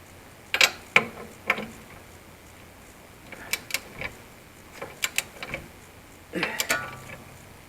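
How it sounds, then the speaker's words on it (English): A torque wrench ratchets on a Lexus IS200t F Sport rear shock absorber bolt in short groups of sharp metallic clicks, separated by quiet pauses, close and fairly soft. "Alright, let's tighten this. Torque this down"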